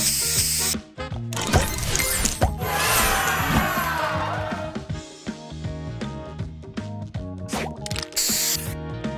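A spray booster effect in the Match and Hatch puzzle game, a loud whooshing burst with bright splashy clatter, then rhythmic pops and chimes as pieces clear over game music.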